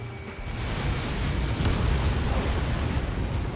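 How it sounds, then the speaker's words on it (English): A large explosion impact in the combat flight game Ace Combat 7, a broad rolling roar of noisy blast energy that swells and stays heavy for several seconds, alone with no voices. "How many got caught in that explosion?"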